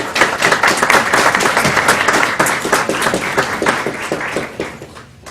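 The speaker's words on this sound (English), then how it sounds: "let's give her a round of applause" An audience at a school board evening event applauds a student, a dense, lively round of clapping from many hands that holds steady and then tapers off toward the end.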